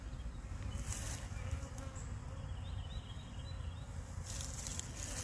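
Honey bees at an open hive, a dense continuous buzzing swarm heard up close at a fairly low level, with a few individual bees droning past.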